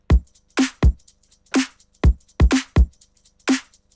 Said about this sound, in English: So we got the kicks and the snares, and we've got our breakbeat samples.